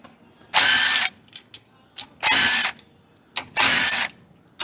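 Ratchet loosening a bolt during axle removal on a vehicle being lowered with a 6-to-5 lug swap, three rapid bursts of metallic clicking close by, each about half a second long, separated by pauses with faint clanks.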